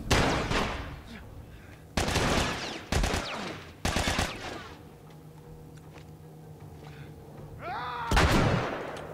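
Gunshots in The Last of Us, four loud close blasts spaced about two seconds apart, each ringing out briefly, with a quieter stretch of game ambience and faint talk between the last shots.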